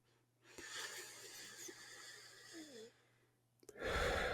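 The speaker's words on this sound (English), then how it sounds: "take a moment right now and close your eyes and take one deep breath" A single slow, deep breath drawn close up and held steady for about two seconds, followed by a quiet pause and then the sharp start of another breath.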